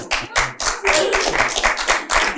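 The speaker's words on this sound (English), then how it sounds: "So that you clap for." Audience clapping on a talk show about arranged marriages, arriving in a few uneven bursts of close, brisk hand claps with short gaps between them.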